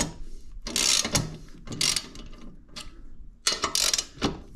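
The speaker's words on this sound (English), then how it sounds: "And now you can loosen your bolt," Ratchet wrench loosening a bolt on a Honda HRN216VKAA push mower, several close, crisp bursts of rapid pawl clicks separated by brief pauses, with no talking.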